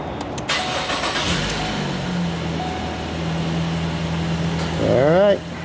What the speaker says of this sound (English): Crank the car up.